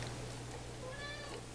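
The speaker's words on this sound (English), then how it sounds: "if you can hear my cat crying in the background" A cat meows in the background, a drawn-out cry over a steady low hum, faint and a little distant.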